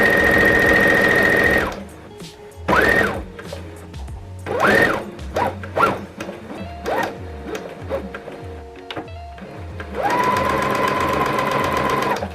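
A new sewing machine stitches in close, loud runs of rapid whirring with a rising motor whine, broken by short start-stop bursts and clicks between, with no voices.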